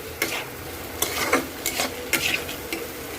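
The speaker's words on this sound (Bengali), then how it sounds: "5 মিনিট মতো এটাকে আমি কষিয়ে নেব" Cabbage and prawns are sautéed in a pan, with repeated scraping stirs of a spatula over a continuous sizzle, close up and with no voices.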